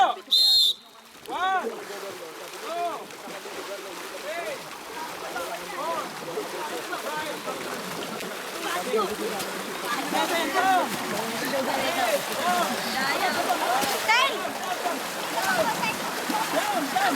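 Water sloshing and splashing in a pool as a group stirs up waves, a continuous choppy wash that grows louder, with a voice and chatter over it.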